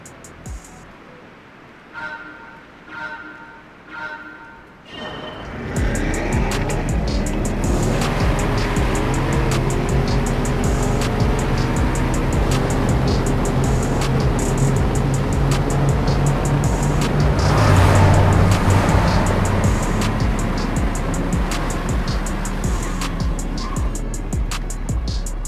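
An AMG GLS63 and a Cadillac Escalade-V in a drag race: after a few quiet knocks, engines roar to life and hold a loud, sustained drone that swells toward the middle.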